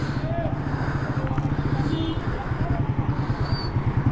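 A motorcycle, with a Yamaha R1 and Ducati X Diavel in the group, rides through city streets; a steady throbbing engine drone with rushing wind carries throughout while a voice talks over it.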